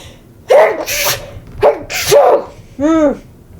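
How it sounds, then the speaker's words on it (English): Several loud sneezes close to the microphone in quick succession, ending with a final sneeze that trails into a voiced sound. "I have to sneeze now."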